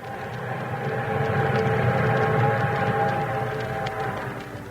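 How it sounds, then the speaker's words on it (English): An eastbound train thunders along in a continuous heavy rumble with a droning tone on top, loud and sustained throughout. "Meanwhile, the eastbound train thundered on."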